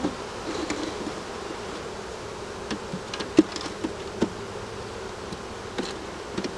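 Young bees making wax at a hive hum in a steady close buzz, with individual bees zipping past in brief louder passes.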